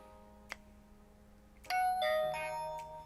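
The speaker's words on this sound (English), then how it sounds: "It's my doorbell." A home doorbell rings out a clear, ringing chime in a few bright tones, close and distinct against a quiet room with a faint click just before.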